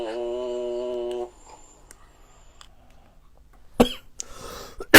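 A man coughs a few times, a sharp cough followed by a couple of brief rougher ones after a held sung tone.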